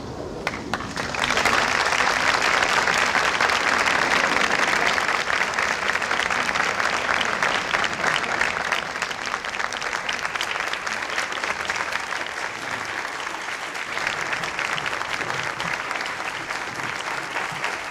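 A large audience breaks into sustained, loud applause for the President, Mrs. Reagan and Mother Teresa, starting after a brief pause and holding steady through the end with no speech over it.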